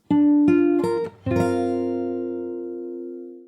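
Fingerstyle guitar plays a short phrase from the Animal Crossing New Horizons theme: a few clean plucked notes, then a chord swept with the thumb that rings out in a long, fading sustain. Close and solo, with no voices.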